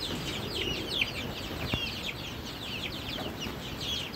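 Caged farm chickens on a poultry farm give a busy, continuous chorus of clucks and high chirps close by, with a few brief knocks and no talk.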